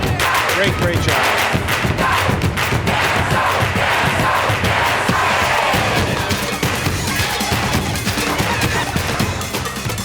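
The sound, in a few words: crowd applauding and cheering at ice skating show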